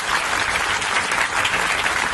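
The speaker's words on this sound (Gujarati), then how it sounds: "એ બદલ એમના માટે આપણે સૌ લોકો તાળીઓ વગાડશો।" An audience claps for Surat police at a festival gathering, a dense, steady burst of applause from a crowd lasting about two seconds, with no talking over it.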